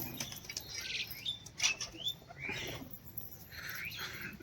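Pigeons flutter and flap their wings in soft, irregular bursts while feeding, with a few faint chirps mixed into a steady background noise.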